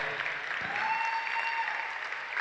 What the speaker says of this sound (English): give the 2025 World Automotive Auctioneering Champion ringman a round of applause